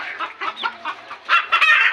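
A desi country rooster on a poultry farm gives a series of close, loud clucking calls, rising toward the end with a short crowing burst.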